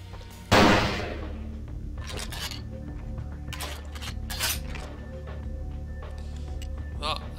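A single sharp gunshot rings out in Vampire the Masquerade Bloodlines, followed by metallic clinks and scattered impacts in a guarded combat zone, with someone talking quietly at moments.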